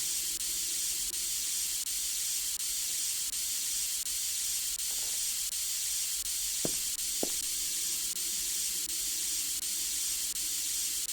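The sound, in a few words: steam escaping with a hiss in video game AGON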